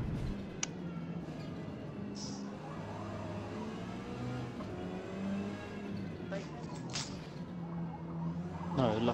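Touring car engine in the Forza Motorsport racing game, leaving the pits with light engine damage, droning steadily at a constant pitch throughout with a brief rising rev near the end.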